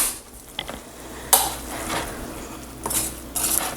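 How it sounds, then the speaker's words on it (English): A spoon stirs keto chicken enchilada filling in a pot, with a few scattered clinks and scrapes of metal against the cookware, fairly close and without speech. "I'm just giving it a good stir"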